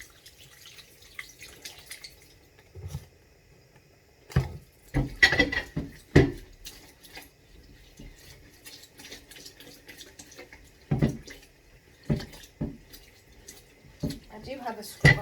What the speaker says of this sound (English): I'm going to wipe that board down